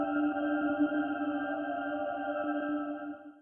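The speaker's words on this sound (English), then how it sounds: "We hear this high synth pad holding up a very condensed chord." A high synth pad from Majora's Mask game music holds a tightly packed, condensed chord, sustained evenly and alone before fading out at the end.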